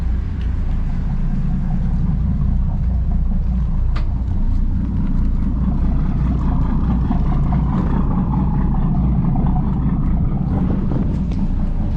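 Steady, loud low rumble of engine exhaust from a 50-foot yacht under way, a hurricane-damaged boat running with constant droning noise and some wind buffeting.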